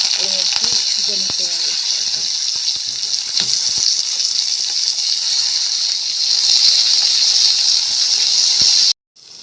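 Brinjal pieces fry in hot oil in a wok with a steady, loud sizzle and crackle throughout, broken by occasional clinks of stirring, before cutting off abruptly near the end.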